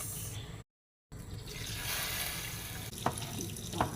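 Water runs from a tap into a pot for hotdog soup (sopas), a steady hissing pour broken by a short silent gap, ending with a couple of small clinks.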